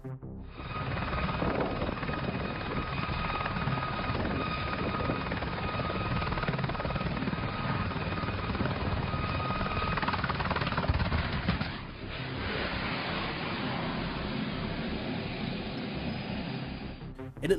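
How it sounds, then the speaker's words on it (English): A helicopter hovering next to a pub before losing control and crashing, a steady loud rotor chop and turbine drone that falters abruptly near the end, then continues rough and ragged. "this helicopter seems to be hovering right next to a pub when all of a sudden it loses"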